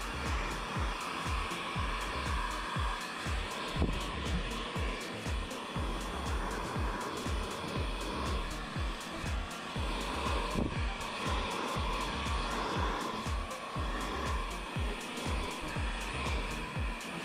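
A heat gun blows hot air steadily to shrink film on a car door, a continuous close whooshing hiss with no talk.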